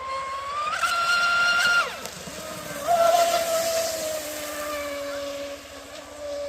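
An Oxidean Dominator RC speed boat on 8S power with 40mm to 42mm props runs at full throttle, its motor whine climbing to a high pitch and dropping off, then surging again at a distance over water.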